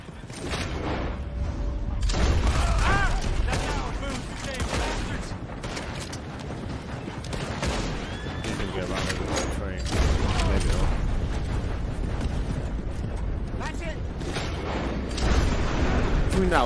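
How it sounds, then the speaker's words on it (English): Gunfire aimed at a carriage in Red Dead Redemption 2, with repeated shots and crashes amid clattering mechanical noise over about seventeen seconds, while voices talk and shout throughout. "Shooting on the carriage."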